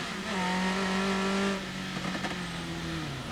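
TVR Tuscan race cars in the 1995 Tuscan Challenge, engines held at a high steady drone before dropping and shifting as the cars pass, loud and close with no talk over them.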